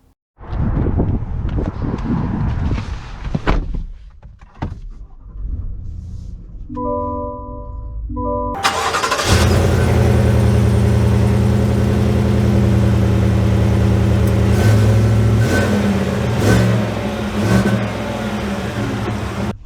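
A 2022 Cadillac Escalade Sport: soft clicks and a brief electronic chime, then the engine fires with a sudden loud burst and settles into a steady, full drone that runs continuously to the end.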